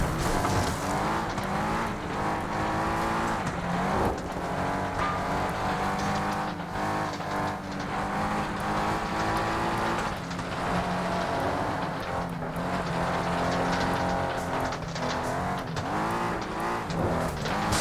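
Rear-wheel-drive race car sliding and skidding on a desert course in the Flatout 2 racing game, loud sustained engine roar with tire noise filling the whole stretch, no voices.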